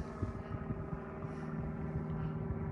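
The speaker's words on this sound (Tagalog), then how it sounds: "Helicopter." A helicopter flying overhead during a sunset walk, a steady droning hum with a faint rhythmic rotor chop, moderately loud and continuous, no talking.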